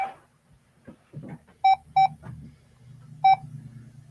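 A phone gives three short, sharp electronic beeps while an alarm is set, two close together then one after a pause, over quiet background talk and low room hum.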